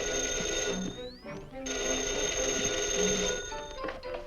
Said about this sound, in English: Why didn't she say the phone was ringing?